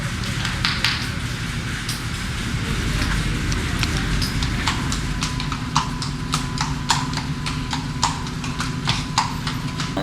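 Horse hooves clip-clopping at a horse show, an irregular run of sharp knocks that grows denser and clearer toward the end over a murmuring crowd-like background.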